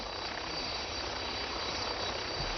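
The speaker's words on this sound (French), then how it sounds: "le vent souffle trop fort pour que l'hélicoptère atterrisse" A helicopter flies in strong wind off the coast near La Rochelle, giving a steady, dense roar that holds at constant loudness throughout.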